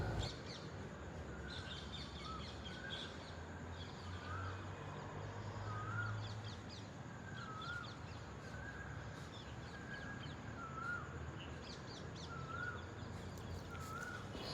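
Birds gathering at dusk call in a repeated series of faint, distant crow-like caws spaced a second or two apart over a steady outdoor hiss, with no voices.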